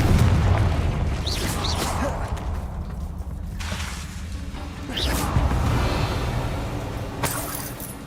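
Bombarda blasting spells explode repeatedly in Hogwarts Legacy, with booming bursts and sharp whooshing cracks recurring every few seconds over a steady rumbling game background.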